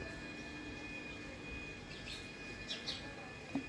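Small birds such as house sparrows chirp in the early morning, with a few brief tweets rising near the end over steady background hum and noise.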